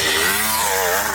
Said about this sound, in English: When you open the two-stroke, it's so different from everything else.